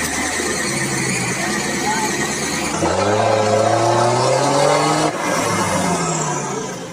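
A truck's engine strains and revs while its wheels spin over grass and branches laid down for traction, the pitch rising sharply midway, with voices talking over the noise.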